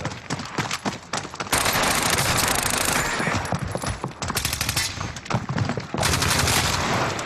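Sustained automatic gunfire in Warzone, rapid dense bursts of shots, loud and close, broken by short pauses between volleys.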